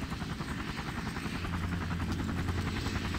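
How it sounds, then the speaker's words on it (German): A helicopter approaches in the video game Far Cry, its rotor chopping in a steady, rapid rhythm over a continuous engine drone, loud and sustained throughout. "So, also jetzt kommt der Hubschrauber."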